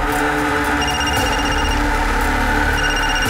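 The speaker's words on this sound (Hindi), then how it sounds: "फोन है सर।" A telephone rings loudly in short repeated trills, layered over a dense, busy background.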